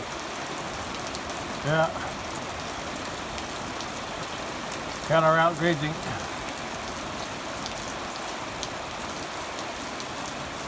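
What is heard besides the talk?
light rain falling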